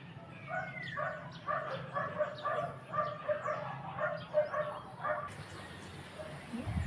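Several dogs bark in a rapid series from a neighboring yard, fairly close and loud, with yips mixed in, before they fall quiet behind outdoor ambience.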